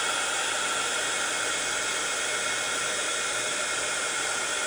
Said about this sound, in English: Sorry for the heat gun noise